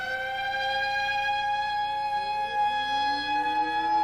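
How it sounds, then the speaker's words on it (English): A steady, wailing civil defense siren tone holds and slowly shifts pitch, with a second siren rising underneath; sustained and fairly loud, no voices. "The sirens were going."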